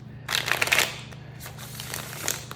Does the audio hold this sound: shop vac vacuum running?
no